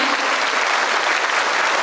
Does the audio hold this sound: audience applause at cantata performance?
yes